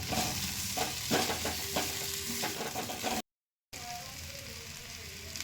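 A dish being stirred and fried in a pan with kasuri methi sprinkled over the top, a dense close sizzle with scraping stir strokes, cut briefly by a moment of silence before the frying resumes.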